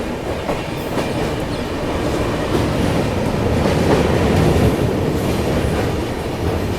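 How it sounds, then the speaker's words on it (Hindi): A train arrives on the Agra line at Tundla junction, wheels rolling with a steady, loud clickety-clack rumble that swells slightly and holds throughout. "ये जो ट्रेन आ रही है ना, ये आ रही है आगरा वाली लाइन से"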